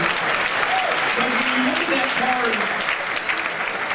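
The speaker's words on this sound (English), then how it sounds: "So you should give yourselves a round of applause for making it possible." Sustained applause from an audience filling a room at a gala dinner, dense and steady throughout, with a speaker's voice talking over the clapping.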